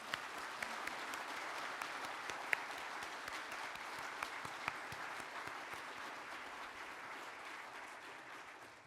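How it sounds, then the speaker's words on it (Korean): An audience at the Samsung Ho-Am Prize award ceremony gives a steady round of applause for the winners, a soft, even wash of many hands with a few sharper claps standing out. "수상하신 모든 분들께 다시 한번 뜨거운 박수 부탁드립니다."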